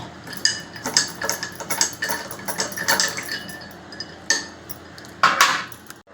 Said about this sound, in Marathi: आईस क्यूब टाकते. असं मिक्स करून घेते.